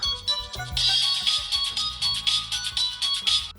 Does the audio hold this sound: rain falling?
no